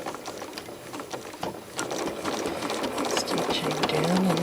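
A sewing machine stitches crosshatching around an appliqué, running with a fast, steady mechanical patter that grows slightly louder, while a voice talks over it.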